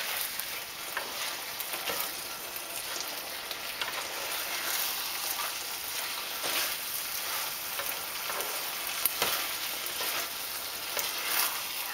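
Pepper steak and oyster mushrooms fry in a pan for a pie filling, giving a steady bright sizzle with crackles and small pops. It stays constant and moderately close the whole time, with no voices.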